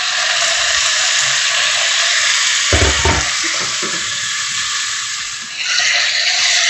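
Small chicken pieces drop into a hot pan and sizzle loudly and steadily, a brief clatter as they land, then continuous close frying hiss throughout.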